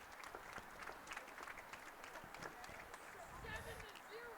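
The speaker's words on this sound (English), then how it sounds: "Gets the applause" Spectators applaud at a high school boys varsity soccer game, scattered distant clapping across the stands with a commentator talking over it.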